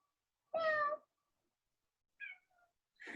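A pet cat meowing indoors, one clear drawn-out meow followed by a short soft chirp and the start of another meow, close and quiet against silence.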